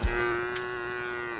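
Cattle in the video game Craftopia give a single low, drawn-out moo that is close, clear and steady for over a second, with no talking over it.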